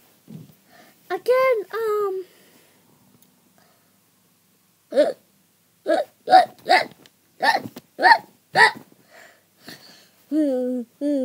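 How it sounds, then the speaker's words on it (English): Repeated hiccups, a quick series of sharp voiced gulps in an irregular rhythm with pauses between bursts, close and clear, with a few short voiced sounds mixed in. "I have the hiccups"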